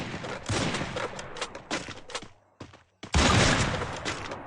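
Heavy gunfire from an M82B Barrett sniper rifle in a Free Fire-style shooter game, loud sharp bursts in a dense cluster, a short lull with a few smaller cracks, then another powerful blast near the end.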